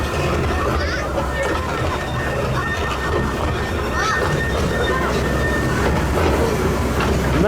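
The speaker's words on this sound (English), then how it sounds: "Just the one station on this train ride." Theme park train ride at LEGOLAND Windsor, with a steady low rumble and rolling clatter of the small train running continuously throughout, and a person talking over it.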